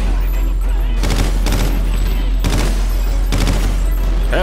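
Bursts of automatic gunfire from the video game Call of Duty: Ghosts, three loud volleys about a second apart rattling over a constant low hum, with no voices.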